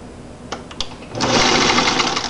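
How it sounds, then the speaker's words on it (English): A sewing machine stitching fabric for a grocery bag holder, a few single needle clicks followed by a short steady whirring burst of stitching, close and loud. "I'm just going to do an itty bitty stitch right there to keep these together"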